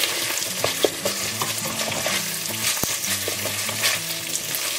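Ginger garlic paste frying in a pan while being stirred, a loud continuous sizzle with scraping spoon strokes, close and steady with no voices.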